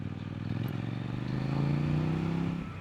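Engine of a 2025 Kove 800X Rally adventure motorcycle, a steady loud rumble that swells slightly as it revs, heard close and alone with no talk.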